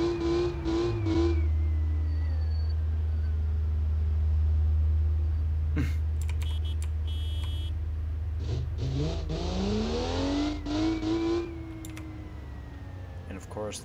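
A car in BeamNG.drive fitted with a Honda 2JZ engine drones at a steady low idle, then revs up with a rising, climbing whine near the end, loud and close throughout.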